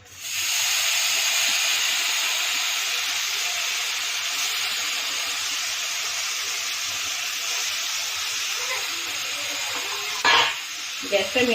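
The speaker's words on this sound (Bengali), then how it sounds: "কড়াইটা গরম হয়ে গেছে। মেখে রাখা নারকেলটা দিয়ে দেবো।" Grated coconut mixture for coconut laddu (narkel naru) hits a hot wok and sizzles in a loud, steady hiss that holds for about ten seconds, with a brief clatter near the end.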